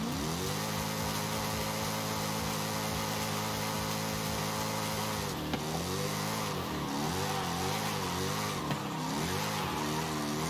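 A turbocharged car engine in Forza Horizon 5 drifting: a loud, steady high-revving drone holds for several seconds, then the pitch swings up and down repeatedly as the throttle works through the slide.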